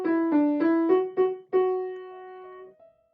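Piano plays Mary Had a Little Lamb starting on D: several quick notes followed by a held tone that slowly decays, with no voices.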